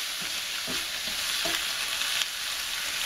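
Cabbage with bacon, stir-fried Taiwanese style with light soy sauce, sizzles steadily and fairly loudly in the pan while a few soft tossing and scraping sounds come through.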